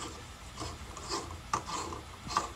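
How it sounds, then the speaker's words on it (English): A smart light bulb is screwed into a socket with soft rubbing and scraping turns and a few small clicks, quiet and close, with no talking. "I'm gonna screw it into this socket"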